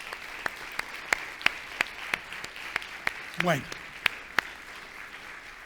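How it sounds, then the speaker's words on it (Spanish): Scattered, sharp claps from a small audience in a church ring out for children, spaced and uneven, with a brief voice speaking partway through. "Démosle un aplauso a los niños."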